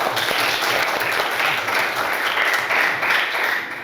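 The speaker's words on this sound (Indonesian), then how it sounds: "Oke, tepuk tangan untuk kelas ini." A classroom of students applauding, a dense, steady burst of many hands clapping together at close range, holding for several seconds before easing slightly, no talk over it.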